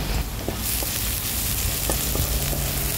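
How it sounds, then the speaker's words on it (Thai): Shiitake mushrooms and minced garlic stir-frying in oil in a pan, with a loud, dense, continuous sizzle and faint stirring taps, heard up close with no voices. "ผัดกระเทียมสับกับเห็ดหอมให้หอมๆค่ะ"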